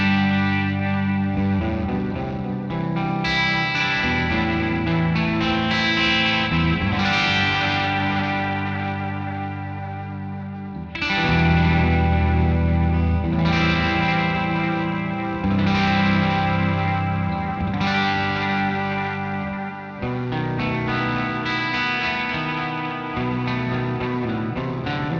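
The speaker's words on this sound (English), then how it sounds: "that is a really lovely delay" Electric guitar played through a NUX Tape Echo delay pedal with bass and treble set to center, lush repeating echoes and reverb trailing each strummed phrase, steady and loud throughout with two brief dips.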